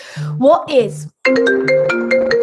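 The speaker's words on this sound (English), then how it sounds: "my phone just rang" A phone rings loudly and close, a bright repeating ringtone melody that enters right after a brief burst of voice and then carries steadily to the end.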